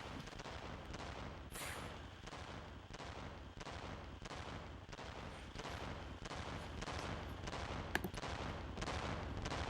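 An enemy in the Knife Edge Nose Gunner game fires through crystals: a rapid, even run of gunshots pulses steadily for several seconds over a dense, rumbling battle noise, loud and close, with one sharper click near the end.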